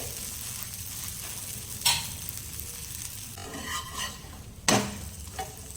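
A bajra spinach pancake fries in oil in a pan after being flipped, giving a constant close sizzle broken by a couple of sharp spatula taps and clinks.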